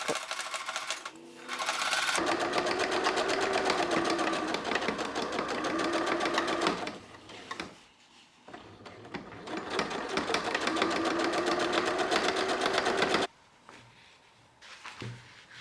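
A sewing machine stitches the front and back facing shoulder seams of a child's spring jacket in long, fast, steady runs. It pauses briefly between two main bursts and sounds close and clear, with no talking.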